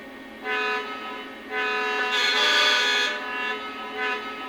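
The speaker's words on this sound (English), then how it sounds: "My favorite feature has to be the horn stepping and how there's a little quill." A Lionel Legacy SD38 model locomotive horn sounds in several stepped blasts with a brief quill-like pitch bend at the end, clear and fairly close, with no talking.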